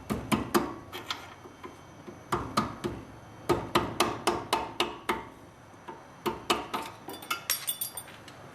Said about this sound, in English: Just take a flathead screwdriver and a hammer and knock it off.